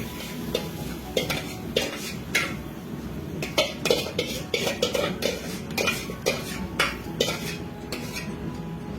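A spoon scrapes and clinks against a pan while a cabbage and pea mixture is stirred, irregular metallic taps and scrapes over a faint sizzle, close up with no speech.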